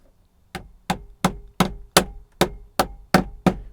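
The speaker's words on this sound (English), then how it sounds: "a little rubber hammer, get him into position" A small rubber hammer taps push pins into a 1999 GM OBS truck dash cover, nine sharp, evenly spaced knocks ringing out close and alone.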